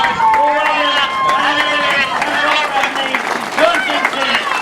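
Crowd applause at a grasstrack speedway final, with steady clapping mixed with voices and loud talk over a public address, fairly close and continuous.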